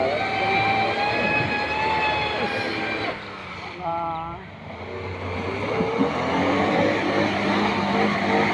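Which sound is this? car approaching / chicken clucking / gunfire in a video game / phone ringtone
car approaching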